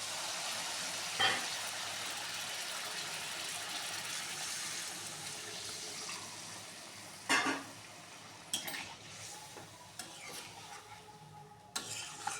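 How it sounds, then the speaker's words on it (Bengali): Water hits frying masala for shahi matar paneer, giving a steady, fairly quiet sizzle with occasional sharp clinks and scrapes of a utensil against the pan. "এবার আমি জল দিয়ে দিচ্ছি"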